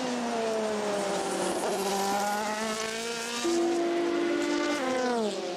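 Audi and Porsche prototype race cars at the 2014 24 Hours of Le Mans, their engines screaming past at high revs with pitch shifts through gear changes, loud and close throughout with no voices.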